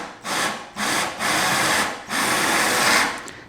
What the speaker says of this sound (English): Kind of rock the drill back and forth like this.